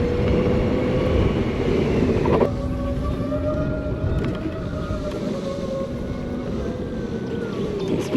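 An Oben Rorr electric motorcycle rides off-road, giving a steady loud whir and rush of wind noise close to the microphone, with a drop in intensity partway through and a continuous droning tone underneath.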